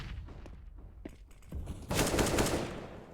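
Automatic AK rifle fire in Counter-Strike, a short loud burst of rapid shots near the end after a couple of faint earlier pops, heard from a competitive match broadcast.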